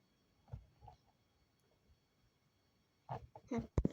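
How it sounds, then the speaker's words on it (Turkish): Chicken clucking in a video game: a couple of short clucks early on, a quiet gap, then a louder, busier cluster of clucks near the end. "bakın burada tavuk var ve ağlıyor"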